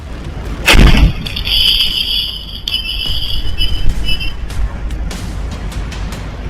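A single loud, booming blast goes off near the start outside the RSS office in Ranchi at night, followed by a rumbling, hissing aftermath and faint high-pitched ringing.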